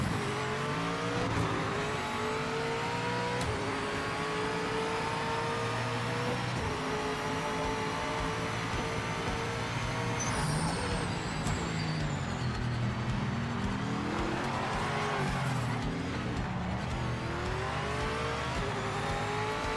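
A race car engine in the Project Motor Racing video game revs loud and continuous, its pitch climbing and dropping through gear changes and throttle lifts, with a faint tire hiss underneath.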